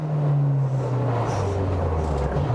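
A 1968 Ford Escort Group 5 touring car engine runs at high revs, a loud, continuous in-cabin drone whose pitch drops steadily as the car slows under braking.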